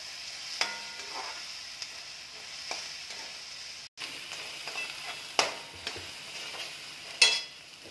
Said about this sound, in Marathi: आता यामध्ये थोडासा वाटाणा, तोही चांगलं परतून घ्यायचा आहे कांदा आणि ढोबळी मिरची सोबत